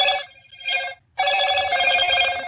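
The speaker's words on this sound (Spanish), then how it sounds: "Alguien está sonando el teléfono." Telephone rings with a bright electronic trill in two bursts, a short one and then a longer sustained one after a brief pause, close and clear with no talking.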